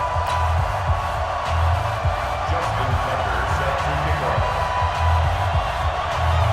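Stadium crowd in Baltimore cheering in the video game Madden 20 before a Ravens versus Patriots match, a steady distant roar of noise with no clear peaks.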